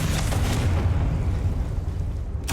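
Explosive Confringo blasting spell from Hogwarts Legacy, a deep rumbling boom that sustains loudly across the moment with a rolling low-end roar, ending in a sharp burst of crackling debris.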